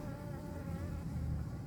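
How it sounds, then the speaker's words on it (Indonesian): Bees hum steadily around the flowers of a home garden, a close, continuous insect drone that holds at an even level throughout. "masih ada banyak lebah teman-teman"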